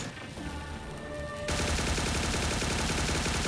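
Rapid gunfire and laser blasts crackle nonstop through a video game battle, a dense steady barrage that erupts suddenly and stays loud to the end.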